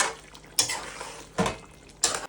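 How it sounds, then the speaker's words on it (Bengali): A metal spoon scrapes and clanks against a cooking pot as garam masala and kasuri methi are stirred into a meat curry, three sharp knocks spaced roughly a second apart, each trailing into a soft wet scrape. "এবার সবকিছু খুব ভালোভাবে মিশিয়ে নিচ্ছি।"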